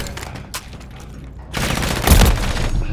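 Gunfire from Call of Duty Modern Warfare III in a deathmatch bursts loudly as a dense, sustained fusillade of rapid shots with a booming swell near the end, layered over battle noise.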